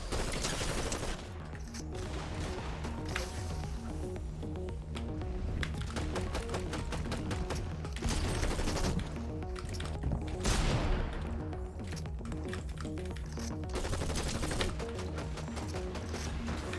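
Loud, rapid automatic gunfire in a shooter video game comes in repeated bursts of closely spaced shots, nearly continuous for the whole stretch, with no talking.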